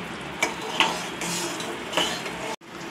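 Raw mango pieces tipped into a pan of melting sugar for a homemade raw mango preserve, giving a few close, light clattering knocks and a soft stirring hiss against a steady kitchen background, with no talk.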